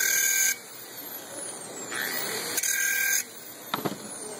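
Bad Dog drill bits are sharpened on a powered tool, a high whining grind that starts and stops in bursts, with a few small clicks near the end.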